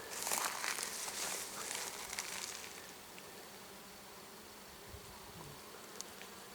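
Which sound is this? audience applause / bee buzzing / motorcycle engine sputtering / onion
bee buzzing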